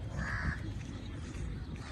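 A crow gives a single short caw close by, then a low murmur of outdoor background carries on alone.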